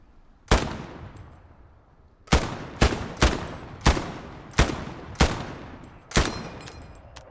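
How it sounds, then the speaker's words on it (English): Loud, sharp video game gunshots ring out one by one: a single shot, a pause, then a quick irregular series, each with a short echoing tail. "Feel like those gunshots were all very loud"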